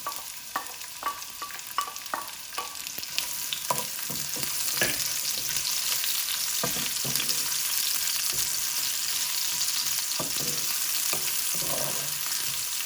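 Chopped onions frying in oil with bay leaves, cinnamon sticks, cloves and cardamom pods for chicken biryani: close spatula taps at first, then a loud, even, sustained sizzle.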